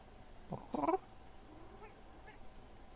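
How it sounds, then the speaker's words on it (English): A cat meows close to the microphone, a short call followed by a longer wavering meow, with a faint softer sound afterward in a quiet room. "We have a cat."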